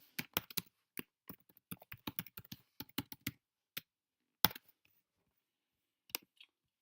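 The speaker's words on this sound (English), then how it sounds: "you can just type in whatever password you want" Someone types a password on a computer keyboard: quiet, close keystrokes in an uneven run of clicks, a short pause, then a few final isolated taps.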